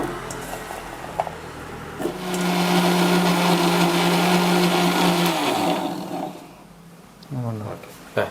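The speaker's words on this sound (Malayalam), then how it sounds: "മിക്സിയിലേക്ക് ഇട്ടോളൂ." A kitchen mixer grinder whirs steadily for about three seconds as it grinds small chopped arrowroot pieces. A person speaks before it starts, then the motor stops and talk resumes.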